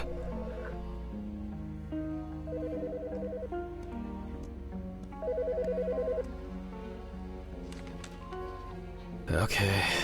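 A phone rings in the horror video game Autopsy Simulator, repeating short electronic ringtone bursts at regular intervals over a droning game soundtrack, with a brief louder noise at the end.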